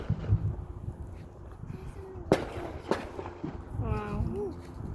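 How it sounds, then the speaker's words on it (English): Fourth of July fireworks burst at Joint Base Fort Hickam, giving two sharp distant pops over a low outdoor background, with people talking nearby. "Just look at that fireworks."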